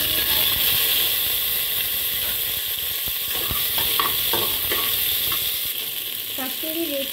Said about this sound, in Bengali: আমি তেল গরম করে নিয়েছি, এখানে সর্ষে ফোড়ন দিলাম, কারি লিভসটা দিয়ে দিয়েছি